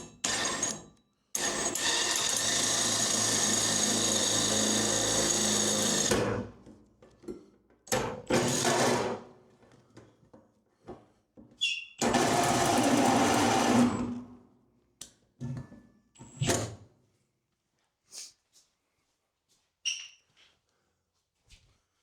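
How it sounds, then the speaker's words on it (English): A power drill whirs in long bursts, then in shorter intermittent spurts with pauses between, close and loud. "So in drilling holes like this"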